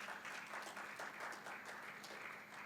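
Soft, fairly distant applause from a congregation during a Sunday church service, a dense, even patter of many hands lasting a few seconds with no speech over it.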